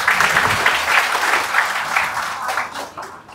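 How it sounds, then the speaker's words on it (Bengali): An audience breaks into a burst of applause, a dense, loud patter of many hands clapping that fades slightly toward the end. "তো একটা হাততালি দেওয়া যাবে না?"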